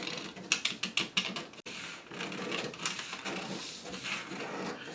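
Scissors cut down the dart legs of a paper jacket sloper pattern, with a quick run of crisp, close snips at the start followed by a quieter, continuous rustling slide of the blades through paper.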